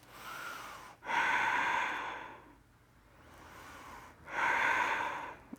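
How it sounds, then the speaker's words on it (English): A person holding a bridge pose in a Pilates exercise breathes slow and audibly, two long airy breaths with quiet gaps between them, close and soft, with no talk. "Breathing here."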